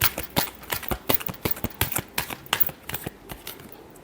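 Tarot cards are riffled and shuffled in quick crisp bursts, a steady rhythm of sharp flutters repeating close up with no talking.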